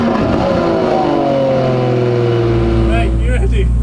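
A 700 BHP Toyota Chaser JZX100 drift car revs hard with rising engine tones, then a deep, loud exhaust roar builds as it pulls away, with people talking over the start.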